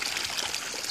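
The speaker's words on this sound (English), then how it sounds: "That's water." Brief, continuous trickling of water running from pipes, a steady close splashing hiss with no voices.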